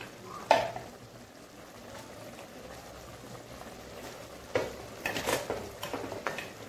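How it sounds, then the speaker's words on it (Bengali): Fried tangra fish goes into a pan of simmering curry with brinjal and taro stems, bringing a few sharp clinks of utensil on pan and a burst of sizzle over a soft bubbling background. "এবার ভাজা মাছটা দিয়ে দেবো।"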